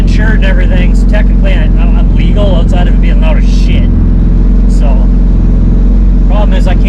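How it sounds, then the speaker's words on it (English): A loud Honda Civic with a B18 engine drives with a heavy, steady low drone close by, while someone talks over it throughout. "Hopefully I don't get pulled over driving this thing. It's freaking loud."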